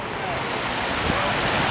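A loud waterfall beside a hotel pool in Orlando roars as a constant, even rush of water that fills the space at close range.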